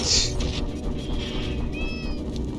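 A cat meows a few times over a steady background rumble, fairly close and moderately loud, with no talking.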